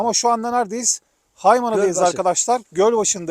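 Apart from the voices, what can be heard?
No distinct noise like a dog, phone or traffic.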